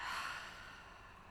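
An audible exhale closes a beginner yoga practice: a single soft, drawn-out breath out, close and faint, fading steadily over a second or so, with no talking.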